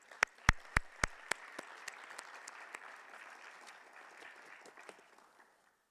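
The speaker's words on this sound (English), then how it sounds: "Can we give them another round of applause?" A few loud, distinct claps at a university Martin Luther King Jr. Day celebration open a round of applause that fades into a fainter, scattered patter before dying away, with no voices over it.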